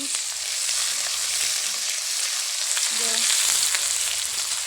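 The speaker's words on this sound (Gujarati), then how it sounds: "અત્યારમાં ડુંગળી નાખી દીધી છે દીદીએ તો હલાવે છે" Chopped onion sizzles steadily in hot oil for a vaghar, with a continuous bright frying hiss and occasional scrapes as it is stirred around the pan; no one speaks.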